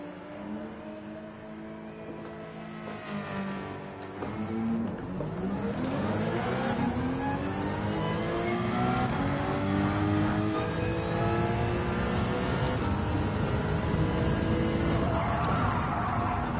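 A Porsche race car in Gran Turismo 7, GT4-class circuit racing: a loud engine drone that climbs steadily in pitch through the gears, with rising and falling tones from several cars around it.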